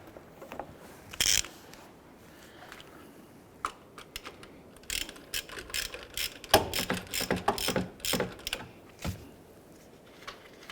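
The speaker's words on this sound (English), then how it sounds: "Using a 19mm socket, we're going to head and loosen and remove the harmonic balancer bolt." A 19mm socket on a ratchet works the harmonic balancer bolt loose on a 2001-2005 Honda Civic, giving scattered close metallic clicks and ratcheting bursts with short pauses between them.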